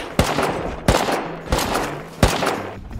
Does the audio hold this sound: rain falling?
no